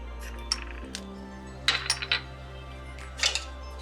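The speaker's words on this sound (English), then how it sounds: "And you just mix it well with the paste and all the ingredients." A spoon stirs spices, meat and paste in a pot while loobia polo is cooked, with a few sharp metallic clinks and scrapes scattered over a low steady hum.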